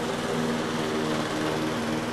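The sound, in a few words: lawn mower running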